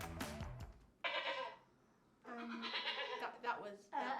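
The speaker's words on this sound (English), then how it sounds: "A goat!" A goat bleats in several wavering cries broken by short pauses, clear and fairly close, with children's voices mixed in.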